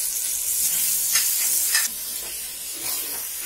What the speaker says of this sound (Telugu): ఇప్పుడు మనం ముందుగా మ్యారినేట్ చేసుకున్నాం కదా చికెన్, అది వేసేద్దాము.